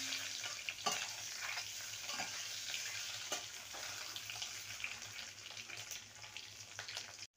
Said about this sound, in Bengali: ডিমগুলোকে উল্টে পাল্টে লাল করে ভেজে নেব।